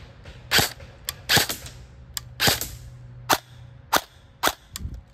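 A BB gun fires at wood, heard as about eight sharp, close snapping shots spaced irregularly across a few seconds, with quiet gaps between them and no talk.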